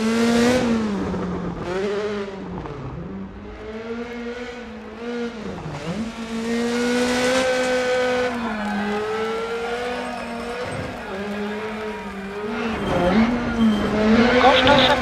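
Rally car engine droning and revving through a narrow snowy, icy stage, pitch rising and dipping as the car slides and shifts, with a rally co-driver talking over it throughout.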